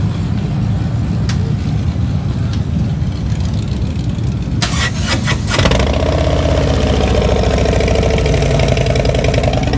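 A motorcycle engine with aftermarket mufflers fires up partway through after a few clicks, then settles into a steady, loud, rumbling idle that continues to the end.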